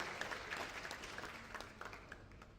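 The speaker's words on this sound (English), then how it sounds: "Please let's put our hands together for him as well." Audience applause at an entrepreneurship lecture, a steady patter of many hands clapping at moderate distance, fairly soft and even, with faint crowd murmur beneath.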